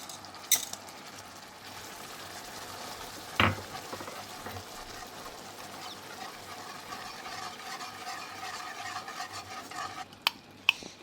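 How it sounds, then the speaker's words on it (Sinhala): Sugar boiling in a pot for homemade strawberry jujubes, a low steady bubbling simmer with a few sharp clinks of a spoon against the pot, fairly quiet, no talk. "ඒ ප්‍රමාණය වෙනකම් අපි සුගර් එක මේ විදිහට බෝයිල් කරගන්නවා."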